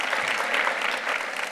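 An audience claps at a luncheon in New York, a short, steady, dense burst of many hands with no voices standing out.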